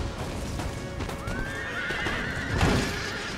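Horses neigh amid a loud, busy Empire Total War battle with cavalry hoofbeats, a rising whinny cutting through the constant din of combat noise.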